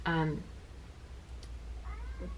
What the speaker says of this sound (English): I'm so sorry if you can hear that my cat is having a concert in the background.